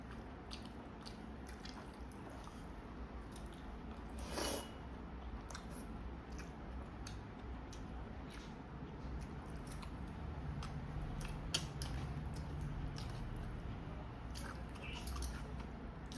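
Close, quiet wet chewing and smacking of rice with tangra fish curry, tomato hilsa, dal and cauliflower-potato with pointed gourd, a steady run of soft clicks and squishes over a low hum, with one sharper bite near the middle and no talk.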